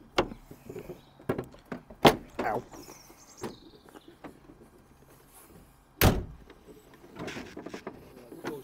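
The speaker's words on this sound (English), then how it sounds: "We should now be able to pull the front off." Pulling the front panel off a Smart 450 city coupe, with sharp plastic clicks, pops and creaks as clips release, one loud crack midway, and a person talking briefly between the noises.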